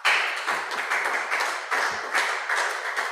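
Members at a parliamentary workshop clap together in a patterned, in-style applause, the group's bursts landing in a fairly regular rhythm with no talk over them.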